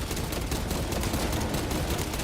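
Video game combat with grenade explosions and gunfire, a dense, continuous barrage of bursts and shots filling the whole stretch at steady loudness, no talk over it.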